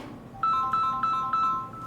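A mobile phone ringtone chimes in a classroom, a short repeating electronic pattern of bright tones that sounds clearly about four times in quick succession.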